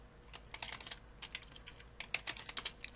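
Computer keyboard keys clack in quick, irregular bursts of typing, close and fairly soft, with no talking.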